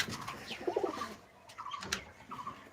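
Pigeons coo softly in a breeding room, with a few low, rolling calls that rise and fall in short bursts and sit fairly close.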